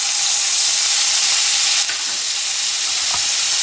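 A mushroom mixture with crushed ginger and garlic fries in a pan, a steady close sizzle and hiss with a faint stir partway through.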